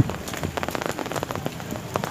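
Rain falls outdoors near a cable car station, a close, dense patter of drops on surfaces, steady and unbroken, with no talking.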